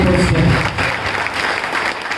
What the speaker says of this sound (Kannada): ಜೋರಕ್ಕೆ ಚಪ್ಪಾಳೆ ತಕ್ಕ